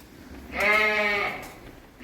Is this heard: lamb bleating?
yes